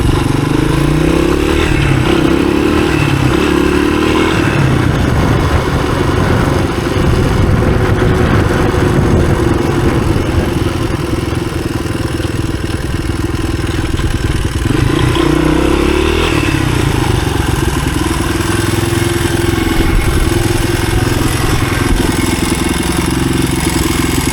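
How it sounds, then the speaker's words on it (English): A 1983 Honda XR200R dirt bike engine, long left sitting, runs continuously up close, a loud, steady clattery single-cylinder idle with slight rises in revs throughout, no voices. "That nice running bike."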